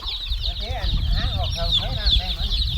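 Several backyard laying hens cluck close by in short, repeated bursts while being called to feed, over steady farmyard background noise.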